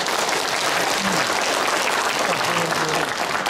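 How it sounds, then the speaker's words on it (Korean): Steady applause from the audience at a Korean book launch event, dense continuous clapping filling the room at an even level, with a few faint voices beneath it. "박수 한번 보내주시기 바랍니다"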